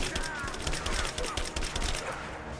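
Rapid gunfire in the video game Rise of the Tomb Raider, a dense burst of repeated shots over a busy game soundscape, loud and continuous throughout.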